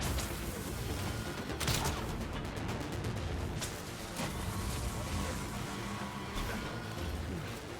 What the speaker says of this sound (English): let's try and get some bola gun headshots here